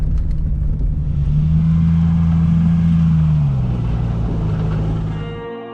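A car in two-wheel drive climbing a snowy road uphill, its engine humming steadily with a sustained drone that shifts pitch midway, close and continuous with no talking.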